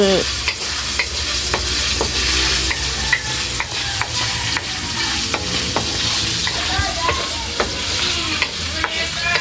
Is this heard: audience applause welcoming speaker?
no